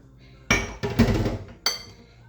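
Spoon or utensil clinking against a bowl while cold water and vinegar are mixed, a few sharp close clinks in quick succession with a brief pause before a final knock.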